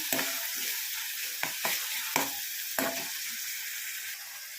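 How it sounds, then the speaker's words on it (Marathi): Green masala paste sizzling and frying in hot oil in a pan for a crab curry, a steady loud hiss broken by several sharp stirring scrapes and spatters, with no talking. "हे हिरवं वाटण टाकत आहे वाटण थोडंसं आपण परतवून घेऊया तेलामध्ये छान"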